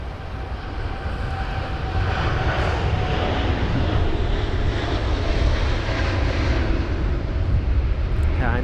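WestJet Boeing 787 airliner at London Heathrow in stormy weather, a sustained loud jet engine roar with broadband rumble and a faint rising whine, steady throughout.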